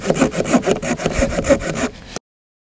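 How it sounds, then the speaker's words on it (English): A Coleman folding saw cuts through hardwood with about ten quick, close, rhythmic rasping strokes that stop abruptly after roughly two seconds. "next we're going to go with the Coleman folding saw"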